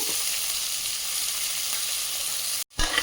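Chopped onions hit hot oil in a pan and fry with a steady, loud hissing sizzle that runs evenly, then cuts out briefly before a short stirring clatter near the end; nobody speaks.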